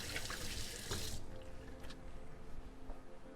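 Hands are washed under a running kitchen tap, a close hiss of water splashing into a sink that softens after the first second, with faint rubbing and dripping following and nobody speaking.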